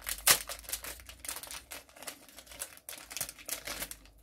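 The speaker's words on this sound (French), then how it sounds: "Mais je vais vous les déballer." A pair of earrings with a G charm and chunky chain links is unwrapped from its packaging, giving close, irregular crinkling and crackling of wrapping with small sharp ticks, strongest near the start.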